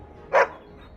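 A single sharp dog bark from the Dragon Age: Origins video game sounds once, close and fairly loud, against a faint, quiet background.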